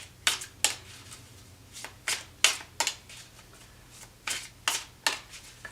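Tarot cards being shuffled by hand, a series of crisp riffling bursts in an uneven rhythm, close and fairly quiet with no talk.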